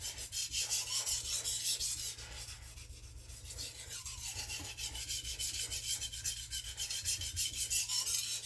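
A kitchen knife is drawn steadily back and forth across a sharpening stone, giving close, rhythmic rasping strokes in an even repeating cadence, with no voices.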